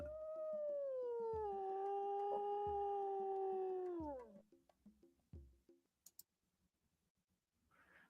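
A single long wolf howl, clear and fairly close, holding a steady pitch before sliding down and fading, followed by a few faint clicks and quiet.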